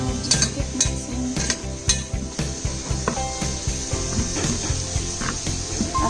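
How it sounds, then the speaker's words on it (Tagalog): Chicken curry with curry paste and coconut stirred in a pot, a dense run of close scraping and clattering spoon strokes against the pan in quick irregular rhythm, with faint sizzling underneath. "So just keep mixing."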